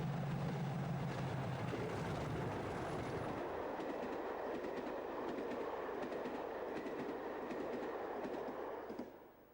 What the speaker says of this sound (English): This is the very last up working with booked Class 50 traction, the 1548 Exeter to Waterloo.